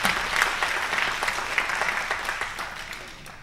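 Church congregation at an Easter worship service clapping hands in praise, a full, steady wash of applause that peaks early and slowly fades over a few seconds.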